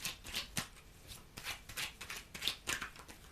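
A 32-card deck is shuffled for a card reading, giving soft, papery riffling bursts close by with short gaps between them and no speech.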